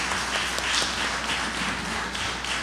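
Brief burst of applause from a crowd at a regional corporation public event in Penal, a steady wash of clapping throughout at even loudness.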